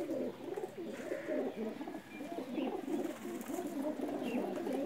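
Young Neel dum pigeons at a home loft in Pakistan coo in soft, repeated throaty bursts, close and fairly quiet, one call rolling into the next.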